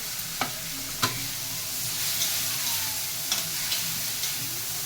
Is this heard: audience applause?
no